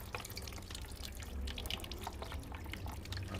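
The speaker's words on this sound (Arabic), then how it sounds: "تكب عليه شويه ماء مليح." Water is poured over the removed filter of a front-loading washing machine, giving a steady, close trickle and dripping splash that runs throughout with no talking.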